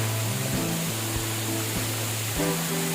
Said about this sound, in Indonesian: Dan ini air terjunnya.